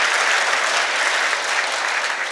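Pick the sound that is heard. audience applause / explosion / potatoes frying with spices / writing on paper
audience applause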